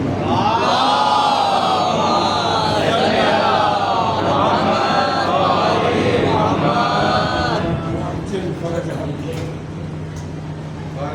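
A crowd at a religious majlis chants salawat blessings together, a loud droning unison of many voices with rising and falling pitch, tapering off near the end.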